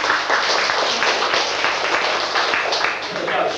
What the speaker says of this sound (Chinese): 来，给这位家长掌声鼓励一下。